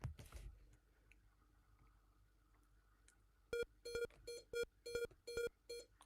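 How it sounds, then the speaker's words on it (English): A ZX Spectrum computer gives a string of short electronic beeps, about eight sharp tones in an uneven rhythm, clear against a quiet room after a brief knock at the start. "I don't know why it's beeping."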